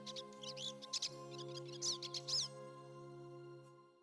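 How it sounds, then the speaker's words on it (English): Bird chirps and tweets in the video game Star Ocean, quick bursts of high calls over a sustained musical drone, then fading as the drone continues alone. "I've got some very annoying bird sounds there"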